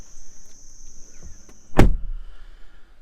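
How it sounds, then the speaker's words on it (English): A Toyota 4Runner TRD Pro door slams shut once with a loud, close thunk heard from inside the cabin, followed by a brief rattle and quiet interior hush. "I'll shut the door to give you a good idea what it looks like"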